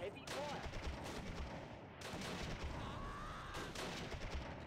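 Bursts of rifle and machine-gun fire in the WWII tactical game Close Combat, fighting at Pegasus Bridge, crackle steadily throughout, with a voice speaking faintly underneath.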